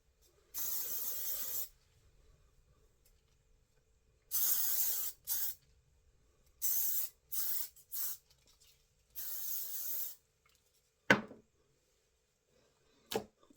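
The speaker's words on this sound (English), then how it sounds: "I'm coming in with this Moroccan oil heat protectant spray, and basically I'm going to spray my hair." Several bursts of hissing Moroccanoil heat protectant spray onto hair, some long and some short in quick pumps, close by with quiet gaps between.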